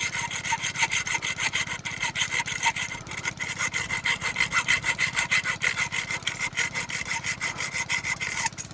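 A saw fitted with a new blade cuts through material in quick, rhythmic back-and-forth strokes, loud and close, each stroke a rasping rub repeating steadily without pause and without voices.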